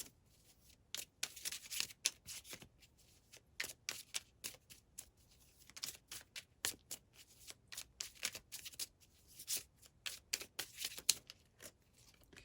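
A tarot deck shuffled and a card drawn, bursts of crisp riffling and slapping cards in quick clusters with short pauses between, close and fairly quiet, no speech.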